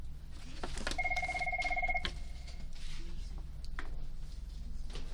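A telephone rings once in an indoor room during a sketching lesson, a steady electronic two-tone ring lasting about a second, fairly faint over the constant low room hum and light rustling.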